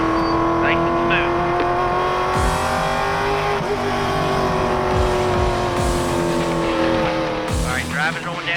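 Race car lapping a NASCAR track, its engine droning loud and close with shifting revs, while someone speaks over the radio throughout.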